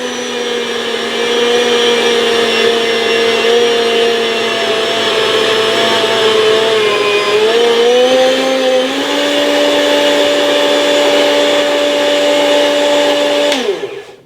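A Chef's Choice 615A electric meat slicer runs with a loud, steady whirring hum that dips in pitch under load as it cuts sharp cheddar, then shuts off at the end.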